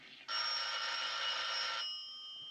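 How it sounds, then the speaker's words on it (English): A telephone rings once as a single sustained bright electric bell tone lasting about a second and a half, loud and close, in a quiet room. "The telephone is ringing."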